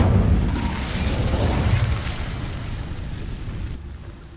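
An Incendio fire spell is cast in Hogwarts Legacy, letting out a low roaring whoosh of flame that starts loud and slowly fades over several seconds.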